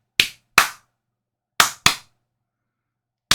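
Four sharp hand claps in two quick pairs, loud and close in a quiet room, each decaying fast, with a fifth clap starting at the very end.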